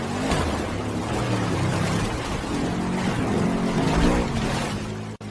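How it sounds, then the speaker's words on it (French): Engine noise from an action scene generated by Google's Veo video AI, a dense, steady roar layered with busy ambient noise, continuous and fairly loud for the whole stretch, with no speech. "cette scène pleine d'action avec beaucoup de bruit d'ambiance et de sons de moteur"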